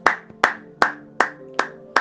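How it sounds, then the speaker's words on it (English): A congregation claps for the glory of God in a church service: six sharp, evenly spaced handclaps in a steady rhythm, close and distinct, with no talking over them. "Can we clap for the glory of God?"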